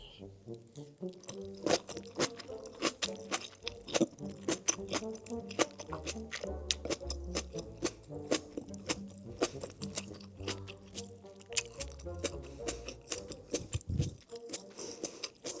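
Close, crisp crunching of crunchy cucumber salad being chewed, quick irregular crackles and snaps over about fifteen seconds, fairly quiet with no talking.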